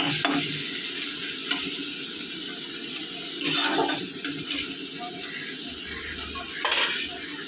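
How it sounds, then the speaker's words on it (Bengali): Onions frying in oil in a pan, a close, steady sizzle with the scrape of stirring and a few short bursts of louder hissing. "চলো পেঁয়াজটা ভাজা হোক।"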